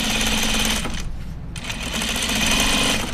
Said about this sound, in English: I'm gonna top stitch my yoke